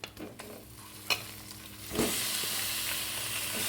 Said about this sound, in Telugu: ఈ చికెన్ వేసుకుని మనం ఫ్రై చేసుకున్నాం